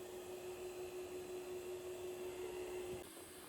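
A Hoover robot vacuum cleaner runs steadily on an upstairs landing, giving a faint, even motor whine over a broad hiss, with a slight drop in level in the last half second.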